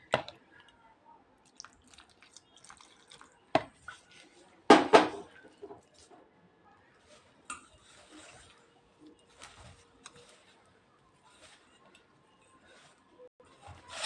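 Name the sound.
kneading potato dough with water by hand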